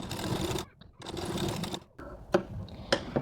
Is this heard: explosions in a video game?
no